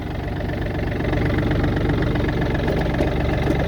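A Yanmar F235 tractor engine idles steadily and close by, a low, even mechanical chug with a slight knocking rhythm that holds continuously throughout without any voices.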